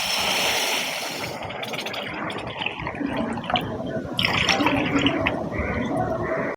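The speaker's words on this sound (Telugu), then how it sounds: "ఈ కప్తో 4 cups ఆఫ్ వాటర్ అనేది షుగర్కి యాడ్ చేయాలి" Water poured from a cup into a pan of sugar to make syrup, four cupfuls in all, a steady close splashing and trickling pour that carries on throughout with a brief lull partway.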